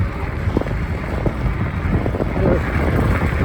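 Loud, steady wind rumble buffets the microphone of a rider on an Ecotric fat tire e-bike riding into a headwind on a chilly day, a continuous low roar with no break.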